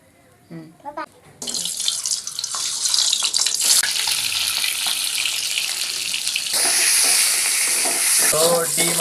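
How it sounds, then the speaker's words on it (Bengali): Boiled eggs fry in a pan, starting as a loud close sizzle after a few brief knocks and swelling into a strong, steady crackling hiss, with a short voice at the start. "এখন আমরা ডিমটা ভেজে"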